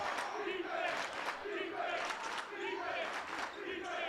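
Loud home basketball crowd at a men's college game against Central Baptist College JV roars and cheers in sustained waves after a highlight play, dense and continuous with no clear gaps.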